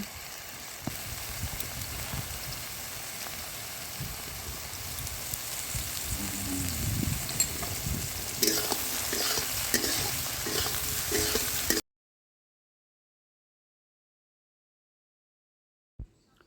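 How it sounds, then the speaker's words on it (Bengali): 100 grams of small soybean chunks frying in a little oil with salt and turmeric in a kadai for a Bengali-style curry, a steady close sizzle with stirring scrapes, then silence near the end. "প্রথমে আমি অল্প তেল দিয়ে সয়াবিনটাকে ভালোভাবে ভেজে নেব"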